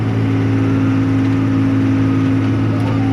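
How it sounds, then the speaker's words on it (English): A tractor or farm engine at a grain operation throttles up, its steady loud drone rising in pitch and holding strong throughout with no talk over it. "I'll throttle up"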